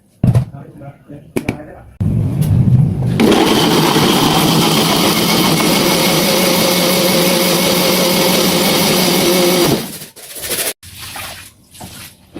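A kitchen blender grinds a spice paste with water, including ground pepper and coriander, for fried chicken. The motor whirs loudly and steadily for several seconds, then stops abruptly, with quieter handling noises before and after.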